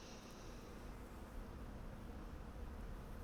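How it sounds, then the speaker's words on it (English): Bees buzzing in a video game, a faint continuous insect drone heard steadily and alone, with no voices over it. "I gotta deal with these freaking bees"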